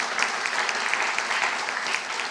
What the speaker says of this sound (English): A round of applause for his introduction.